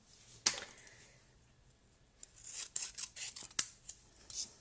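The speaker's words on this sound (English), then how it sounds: "all I'm going to do is simply cut it in half this way." Scissors cutting card stock in half, a sharp snip followed by a series of crisp slicing and rubbing strokes, close and fairly quiet in an otherwise still room.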